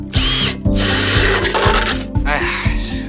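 A power drill bores small holes through the tin base of a milk powder can, grinding in repeated loud bursts with brief pauses between holes.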